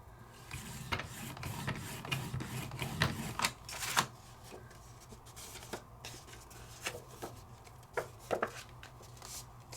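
Paper being scored on a trimmer gives a series of scraping, clicking strokes, uneven in rhythm and close, fairly quiet, with no speech over them.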